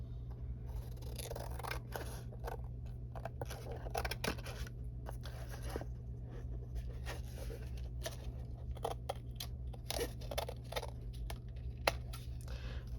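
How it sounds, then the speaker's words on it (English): Scissors trim closely around a cardboard journal cover, a long series of crisp snipping cuts at close range, irregularly spaced against a quiet room hum. "I'm getting my scissors all goopy, but just trimming as close to the cardboard as I can."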